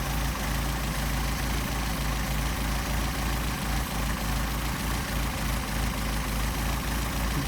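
A Mercedes 190SL engine idles steadily on Solex carburetors, a constant low throbbing rumble with a fine pulsing beat, close and fairly loud, and no voices.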